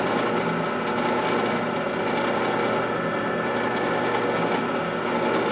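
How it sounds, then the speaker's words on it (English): A power drill bores steadily through clamped wood pieces while building a T-strap, giving a loud, continuous grinding whir with no break across the whole stretch. "Drill all the way through,"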